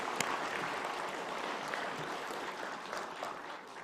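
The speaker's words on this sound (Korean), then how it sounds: "우리 성도 여러분들께서 큰 박수로 환영해 주시길 바랍니다" A church congregation at a Sunday communion service claps warmly to welcome new members, with dense, even applause sustained throughout.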